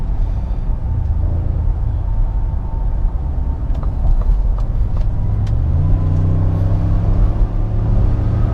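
A 2021 Ford F-150 with the 3.5 engine accelerates on the highway, giving a steady, loud low-pitched engine and road rumble that climbs in pitch toward the end, with no talking.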